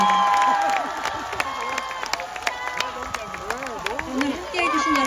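Supporters at a presidential campaign launch rally clap and cheer in a loud, continuous crowd roar, with scattered shouts and voices over the applause.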